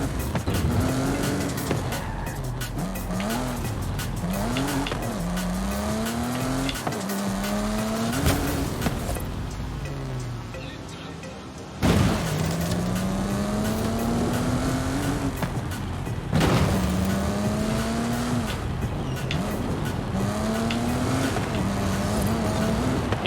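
A Jaguar sports car engine in Forza Horizon 5 revs hard and loud throughout, its rising and falling pitch tracing repeated gear changes with short breaks between shifts, plus tire noise and a faint background hum.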